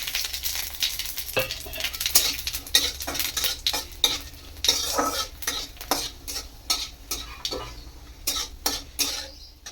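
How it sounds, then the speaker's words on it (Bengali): Five-spice seeds and three bay leaves crackle in hot oil with a steady sizzle, broken by sharp clinks and scrapes of a spoon against the pan in quick irregular strokes. "3টে তেজপাতা আর 5 ফোড়ন আমি এবার তেলের মধ্যে দিয়ে দেবো।"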